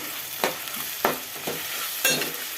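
Onions fried with salt, turmeric and ginger paste for mutton dum biryani, a constant close sizzle punctuated by four sharp spoon scrapes against the pan at roughly half-second intervals, with no speech.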